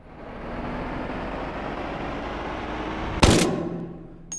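A TF2-style sticky launcher in the VR shooter H3VR fires once: a single sharp, loud burst cutting through a steady low background rumble, followed by a faint click near the end.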